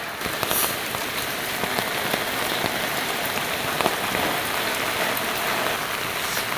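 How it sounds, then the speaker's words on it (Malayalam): Steady rain pours down in a continuous hiss of drops pattering on surfaces nearby, with no voices. "എപ്പോൾ നോക്കിയാലും മഴ മഴ മഴ മഴ"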